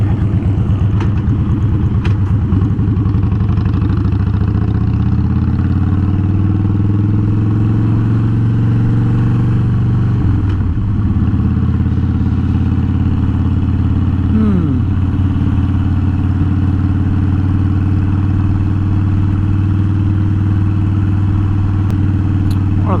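Motorcycle being ridden, captured by a mic on a helmet-mounted GoPro: a steady low engine drone with rumble and faint wind, holding fairly even with a couple of brief pitch sweeps as speed shifts.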